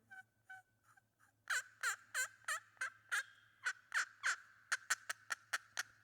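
A small friction turkey call worked with a striker imitates a wild turkey, first a few soft yelps, then a fast run of loud, clear, rhythmic gobbling clucks, close and alone, no talk.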